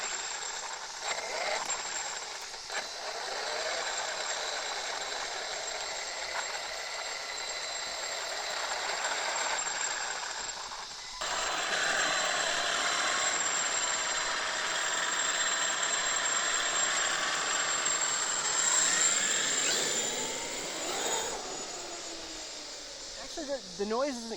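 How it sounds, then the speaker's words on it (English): A Traxxas X-Maxx RC truck fitted with Vitavon mod gears runs on a street on 6S power, its electric motor and gear whine holding steady and fairly loud throughout, with rising and falling pitch sweeps as it accelerates. "Actually, the noise isn't quite as loud as I thought it would be, the gear noise."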